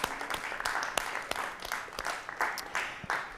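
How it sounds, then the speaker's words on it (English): Audience applause at a museum Pi Day math event: a crowd of hands clapping with scattered sharp claps, moderately loud and steady throughout. "Yep, clap it up."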